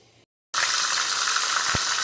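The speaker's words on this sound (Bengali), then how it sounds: "তেলটাকে ভালো রকম গরম করে নিয়ে লবণ হলুদ মাখানো মাছের মাথার টুকরোগুলোকে এর ভিতরে দিয়ে দেবো" Salted, turmeric-coated katla fish head pieces drop into hot mustard oil after a brief silence, setting off a loud, steady, close sizzle that holds to the end with no voices.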